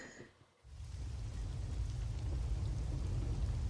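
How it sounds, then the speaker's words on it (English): Steady, dense rainfall from the game Rain Code fades in after a brief quiet gap and keeps up a constant wide hiss with a low rumble underneath. "sound of rain"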